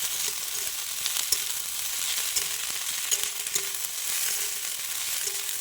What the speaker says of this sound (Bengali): তো এটা হালকা করে ভাজা হতে থাকবে